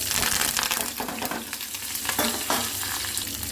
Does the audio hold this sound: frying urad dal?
yes